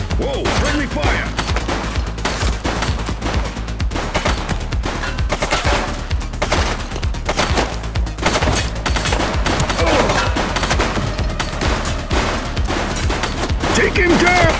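Dense bursts of automatic gunfire and rapid shots rattle almost continuously in the police video game The Precinct, loud and close, with brief voices among the shooting.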